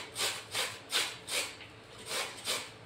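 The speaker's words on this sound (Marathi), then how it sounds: "हे आपण किसून घेऊया।" Fresh turmeric root for pickle being grated by hand, about seven rhythmic rasping strokes at a steady pace, close and moderately quiet with no talking.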